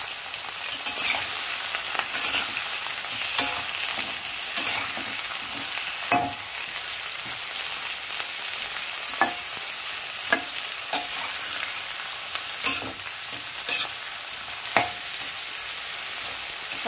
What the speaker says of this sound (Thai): ผัดมะเขือเริ่มสุกแล้วนะคะเพื่อน